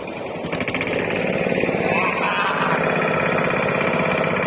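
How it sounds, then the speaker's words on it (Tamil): Fishing boat engine running steadily after starting, loud and close with a rapid, chugging mechanical rhythm. "போட்டு ஸ்டார்ட் ஆயிடுச்சு இப்ப கிளம்ப போறோம்"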